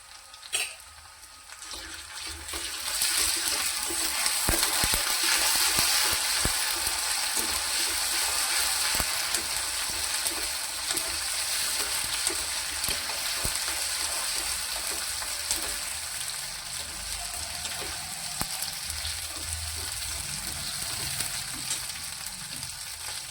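Ginger garlic paste frying in oil in a pan for a capsicum jhunka, a steady close sizzle with scraping stirs that swells after the first few seconds and holds loud throughout, no talking.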